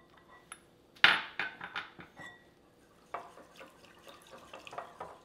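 A whisk mixes sweetened condensed milk in a bowl for a berry trifle, producing quiet, irregular clinks and taps against the bowl in two short bursts with pauses between.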